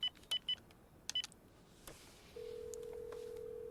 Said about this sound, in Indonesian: alasan mencari telepon adalah untuk menghubungi nomornya barangkali ada yang menemukannya